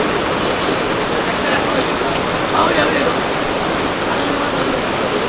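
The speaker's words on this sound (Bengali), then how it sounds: "যে প্রচুর বৃষ্টি হইতেছে" Heavy rain pours steadily at a market in a dense, unbroken hiss, loud and close, with no pauses.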